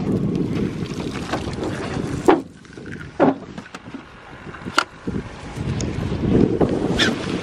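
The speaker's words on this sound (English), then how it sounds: "Wind strong." Strong wind blows across the microphone on a fishing boat at sea, a rough buffeting roar with several sharp gusty bumps and knocks throughout, no voices.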